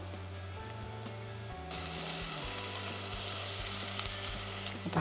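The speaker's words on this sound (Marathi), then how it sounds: "3 तास मसूर भिजवली होती, तो मसूर ह्याच्यामध्ये टाकू." Soaked whole masoor lentils go into frying chilli masala, and a quiet sizzle swells into a louder, fuller crackle once they hit the pan, with a low hum underneath.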